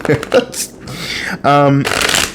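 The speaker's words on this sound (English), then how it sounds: "let me just shuffle the cards correctly" A brief riffle of cards being shuffled, a quick papery burst amid a woman's speech close to the mic.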